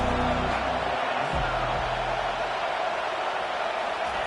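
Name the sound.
football stadium crowd cheering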